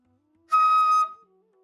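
A single bright, high-pitched bamboo flute tone sounds for about half a second, steady and close, then cuts off, leaving faint low background hum.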